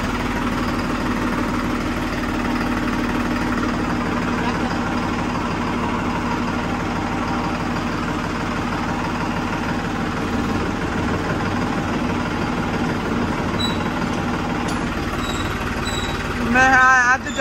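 A John Deere tractor's engine idles steadily and loudly up close, a continuous low rumble with vibration and a brief knock near the end.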